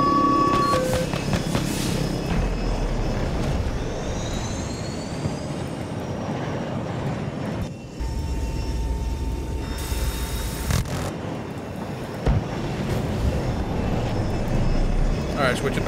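Loud, continuous engine roar and rotor-like rumble of a helicopter in Battlefield 2042, with gunfire-like bursts and radio-style chatter layered over it throughout.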